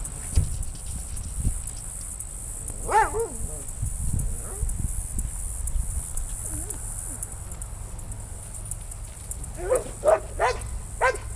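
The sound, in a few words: dog barking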